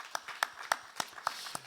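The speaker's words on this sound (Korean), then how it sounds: "은혜 자리에 오게 하신 하나님께 영광 박수 올리겠습니다." A church congregation at a Friday evening service claps in a short burst of about six clear, evenly spaced claps, moderately close, with faint room murmur around them.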